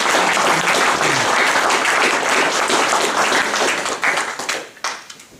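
A church congregation bursts into loud, sustained applause for the Lord, with dense clapping that thins out and fades over the final second.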